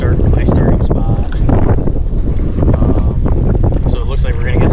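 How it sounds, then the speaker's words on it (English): Strong wind roars and buffets the microphone continuously on Ross Lake during a topwater fishing tournament, with water sloshing and a boat engine rumble underneath, loud throughout. "So, really windy."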